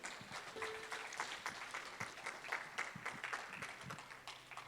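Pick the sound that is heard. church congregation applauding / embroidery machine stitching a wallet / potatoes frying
church congregation applauding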